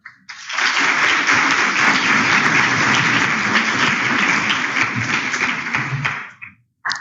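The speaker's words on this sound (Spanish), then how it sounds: "les pido un aplauso de bienvenida para la doctora" Steady applause from an audience, dense and continuous for several seconds, then fading out quickly near the end.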